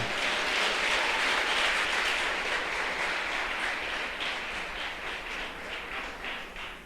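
Church congregation applauding during a Portuguese-language sermon, a broad, steady wash of many hands clapping that slowly tapers off toward the end, with no speech over it.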